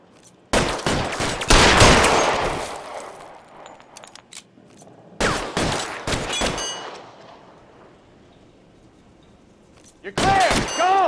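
Gunfire in an L.A. Noire shootout, loud bursts of rapid shots in three separate volleys with quieter gaps between, close and sharp.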